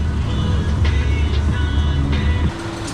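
Fox body drag racing car at a $10K radial shootout, deep throbbing engine rumble up close with sharp bursts, the idle dropping and steadying near the end, with the crowd and event noise around it.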